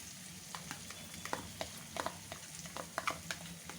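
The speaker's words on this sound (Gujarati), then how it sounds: "ડુંગળીને આપણે થોડી સાંતળવાની છે, થોડી લાઇટ પિંક થાય ત્યાં સુધી સાંતળી લઈશું।" Chopped onion sautéing in oil in a pan for aloo paratha masala, a soft steady sizzle with frequent light crackles and stirring clicks, faint and close.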